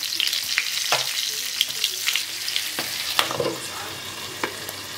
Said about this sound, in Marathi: झाली बघा ढोबळी मिरची अशी तळून। बघा कशी तळली, छान छान तळली ना।